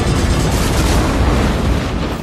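A loud, dense explosion roars with a broad rumbling blast that stays sustained for a couple of seconds.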